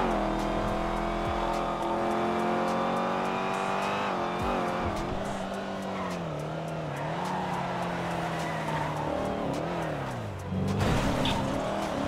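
A GTA 5 car chase, a revving engine roaring continuously with tires squealing and skidding through turns, loud and close, with a harsh burst near the end.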